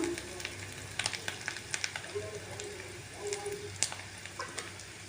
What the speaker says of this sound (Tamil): இந்த ஆனியன் நல்லா குக் ஆகி வரட்டும் வெயிட் பண்ணலாம்